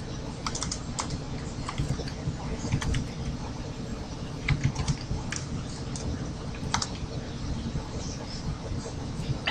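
Typing on a computer keyboard, a run of soft, close key clicks at an uneven pace over a low background hum.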